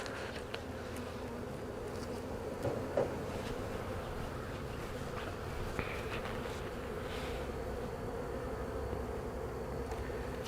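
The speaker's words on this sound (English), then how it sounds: "there's a few bees in there bringing in pollen" A steady, dense buzzing of many honey bees around a hive, continuous and close, with no voices.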